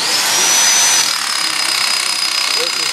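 A handheld power shear bites through 16 gauge sheet steel with a loud, steady high-pitched whine that eases slightly after the first second and holds for about three seconds, with no talking.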